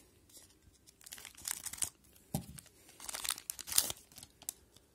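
Foil wrapper of a 2010/11 Panini Zenith hockey card pack being torn and crinkled open, close up, in several bursts of crackling and ripping over about five seconds, with no talk.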